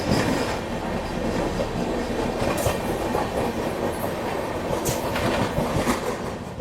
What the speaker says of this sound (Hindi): सामने से ये आ रही है गोमती एक्सप्रेस।